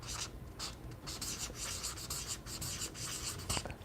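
Color names being handwritten with a pen or marker, a close, continuous scratchy rubbing of strokes with brief pauses between words.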